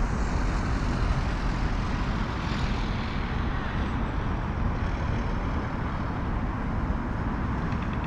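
A jet airliner departs London Heathrow Airport, a broad, steady roar of engines that stays loud and sustained throughout with no talk.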